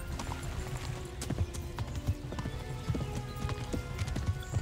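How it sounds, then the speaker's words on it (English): Horse hooves galloping in a rhythmic clip-clop with occasional whinnies from the video game Kingdom Come Deliverance, steady and fairly close, over a busy background. "Come on, horse, move it!"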